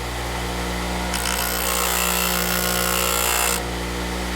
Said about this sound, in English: And now I can see the buffing compound working on the edge.